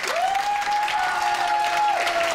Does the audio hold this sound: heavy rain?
no